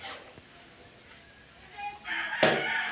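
A rooster crows in a grassy yard, the call rising loud and near in the last second after quieter rustling outdoor background.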